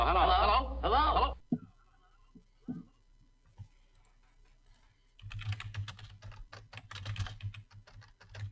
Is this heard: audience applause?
no